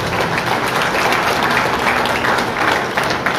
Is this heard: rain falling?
no